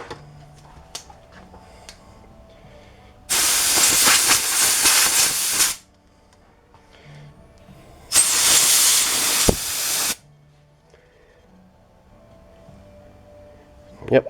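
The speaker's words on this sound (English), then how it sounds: "Compressed air." Compressed air blasts through a carburetor from a 2002 Polaris snowmobile in two loud hissing bursts of about two seconds each. Quiet workshop ticks and small clinks fill the gaps between the bursts.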